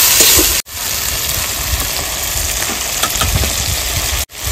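Wet spice paste of ground cumin, Kashmiri chilli powder and a little water sizzles and fries steadily in a pan for a village-style prawn curry, loud and close, with two short breaks in the sound.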